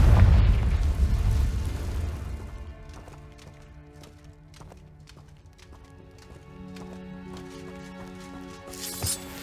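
The Confringo fire spell goes off in Hogwarts Legacy with a loud, deep blast that rumbles and fades over a couple of seconds. Soft rhythmic clopping and faint game music follow.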